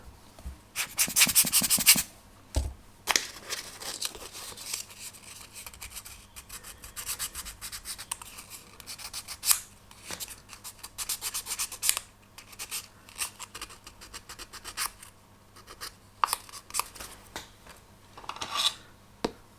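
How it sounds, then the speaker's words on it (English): Sandpaper rubs glue off the rounded end of a wooden dowel on a Vanguard Models HM Sherbourne ship model, in close repeated scratchy strokes that come in irregular bursts with short pauses. "I've got some stubborn glue there that's not coming off with sanding"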